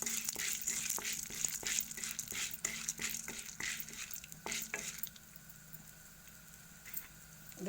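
Chana dal and other lentils roast in hot oil, stirred with a spoon that scrapes and taps the pan in a quick steady rhythm over a soft sizzle, the stirring stopping midway and leaving a quiet fry.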